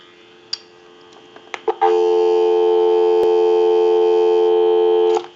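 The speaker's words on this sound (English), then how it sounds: "Go ahead and give you some dial tone." A steady, continuous telephone dial tone on an Automatic Electric 902 rotary wall telephone comes in after a few brief clicks and beeps, holding loud and unbroken until it cuts off near the end.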